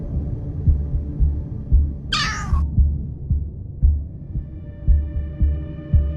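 A summoned cat in the mobile game Solo Leveling: Arise gives a single short, clear meow midway, over a soft, steady, throbbing pulse of background game music.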